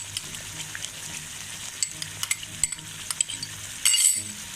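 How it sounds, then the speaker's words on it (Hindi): A spoon stirs egg curry with whisked yogurt in a pan over a soft frying sizzle, scattered sharp metallic clinks and taps against the pan, and a louder scraping burst near the end, with no talking. "चमचा चलाते जाएं जल्दी जल्दी से।"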